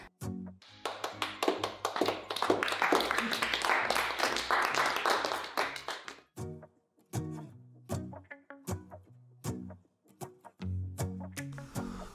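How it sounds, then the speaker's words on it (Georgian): A festive new year party gathering with a burst of clapping and tapping that swells for several seconds, then continues in scattered bursts mixed with tonal musical notes and cheerful sounds. "სად არის ჩემი ტაშის ხმა?"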